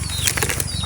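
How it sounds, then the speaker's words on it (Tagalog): A wild bird beats its wings in a quick, close flurry of soft flapping, one short burst of fluttering with no voices. "Wild lang na ibon guys."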